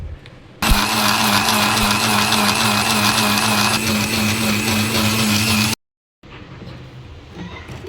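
A mixer grinder grinds ginger garlic paste for egg curry, a loud steady motor whine running for about five seconds before cutting off, followed by quieter kitchen background.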